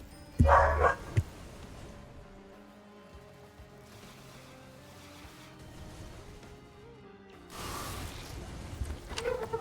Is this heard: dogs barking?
yes